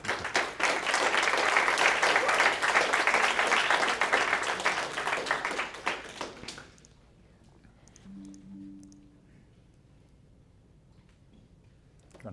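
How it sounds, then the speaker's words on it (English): Audience applause after a capstone presentation, a loud burst of clapping that lasts about six seconds, then stops abruptly into a quiet room with faint murmurs. "So let's give a round of applause to the Cecelia team, Nick Niaish."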